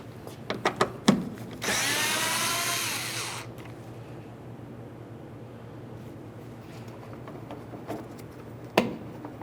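A power tool whirs for about two seconds, backing out a 10mm-headed bolt on a 2012-2018 Nissan Altima rear bumper, preceded by a few sharp clicks and followed by quieter handling knocks and a final clunk.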